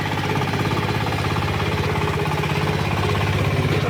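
A Shifeng tractor engine runs steadily close by, a loud, rapid, knocking diesel chug with an even pulsing rhythm and no talk over it.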